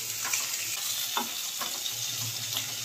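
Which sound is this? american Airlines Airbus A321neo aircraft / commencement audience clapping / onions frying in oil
onions frying in oil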